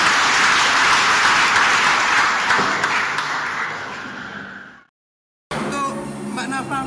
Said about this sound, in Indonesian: Tepuk tangan kemuliaan buat Tuhan.